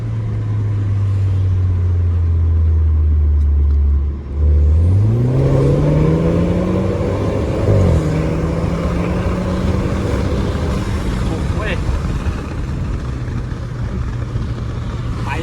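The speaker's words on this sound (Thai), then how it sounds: "ฟังเสียงท่อ หน่อย" A remapped BMW F30 3 Series with the N20 petrol engine revs through its exhaust, climbing and dropping in pitch several times over a steady idle drone, loud and close.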